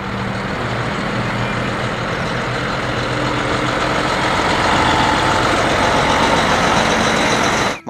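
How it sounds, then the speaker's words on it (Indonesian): A heavy container truck engine idles and rumbles steadily nearby, a loud continuous low drone that swells slightly toward the end. "Wah, ada mobil box lagi, mobil kontainer teman-teman."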